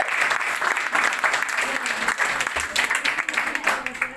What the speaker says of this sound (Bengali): ওনার জন্য তালি হবে।